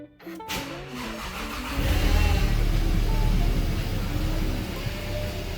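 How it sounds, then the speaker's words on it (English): A repaired car engine cranks briefly and then catches, settling into a loud, steady idle close by with a low rumble. "I haven't tried starting up the car yet since doing this, so let's try and let's see what happens"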